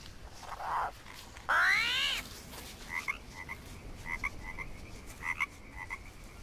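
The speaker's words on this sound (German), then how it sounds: "hier ist ein Frosch" A croaking frog call from the survival video game Green Hell sounds twice, followed by a series of short chirpy blips, with a faint noisy background throughout.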